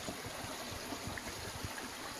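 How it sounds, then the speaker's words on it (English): Creek water flowing under a footbridge in a redwood canyon, a steady, soft rushing and trickling wash with faint gurgles, continuous and moderately distant. "there's some of the water flowing"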